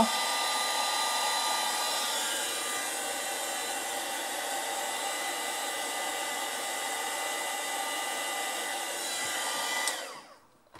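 A heat tool drying ink on a handmade birthday card blows with a steady, loud whooshing hum for about ten seconds, then switches off abruptly.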